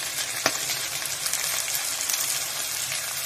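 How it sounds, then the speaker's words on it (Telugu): Vegetables sizzling steadily in a pan while cooking for masala Maggi, a constant crackling fry with one brief sharper clink near the start, no voices. "ఇవన్నీ బాగా ఫ్రై అవ్వాలి."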